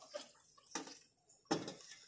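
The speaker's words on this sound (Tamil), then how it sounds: "இன்னும் கொஞ்சம் தண்ணியும் நம்ம ஊற்றிக்கலாம்" Water splashes into a cooking pot for Arabian chicken majboos in three short, separate pours, quiet and close, with brief pauses between them.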